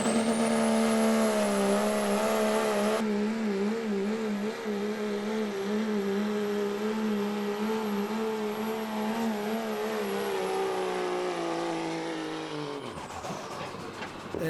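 A big-block 4x4 truck at a truck pull roars loudly as it accelerates while dragging the sled, its engine holding a steady, powerful drone before dropping away sharply near the end.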